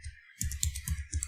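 Typing a command on a computer keyboard, a burst of close, crisp key clicks in quick irregular rhythm after a brief pause, no talk.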